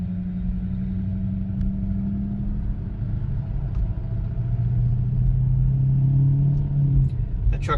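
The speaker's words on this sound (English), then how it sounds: "That truck towing this is sure making a lot of noise and for not much movement." Low, steady engine rumble drones throughout, a truck laboring as it tows, with a constant hum and slight rise in pitch, fairly close.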